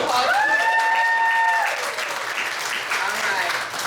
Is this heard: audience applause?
yes